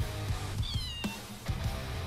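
Cat meows from the Go Cat Go emote in a video game, one clear high meow and a couple of softer ones, close and moderately loud over faint game background, no speech.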